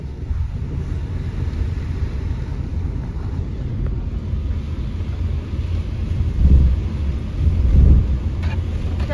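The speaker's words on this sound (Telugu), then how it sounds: "అయ్యయ్యో వర్షం పడుతుందా?" Rain falls steadily in the early hours at Manikonda, a low continuous wash under the storm. Distant thunder swells into two deeper rolling rumbles near the end, with no voices.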